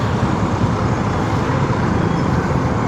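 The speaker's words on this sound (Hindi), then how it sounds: "फ्लाईओवर बहुत ट्रैफिक रहता है" Continuous dense road traffic roars on a busy flyover, a steady broadband wash of car, bus and truck engines and tyre noise at constant loudness throughout, with no voices.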